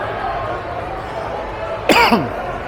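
A single sharp cough bursts out near the mic, brief and loud, over a steady low background hum, on the Las Vegas Strip at night.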